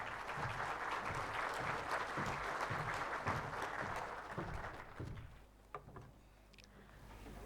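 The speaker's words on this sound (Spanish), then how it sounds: "recibamos con un aplauso a Lilian Ninosca Ticona Pimentel" Audience applause welcomes a speaker at a Bolivian conference session, dense clapping for several seconds that thins out, leaving a few scattered claps and room noise.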